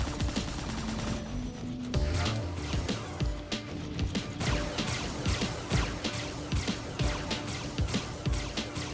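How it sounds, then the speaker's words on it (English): Spaceship cannons in the Star Citizen game fire in a rapid rhythmic stream of punchy blasts over a dense, noisy backdrop of engine rumble and impacts. "Now they're both shooting again."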